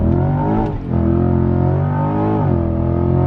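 A C8 Corvette launching hard with launch control, its engine roaring at high revs with a brief dip during a gear change, then pulling strongly again, loud and close from inside the car.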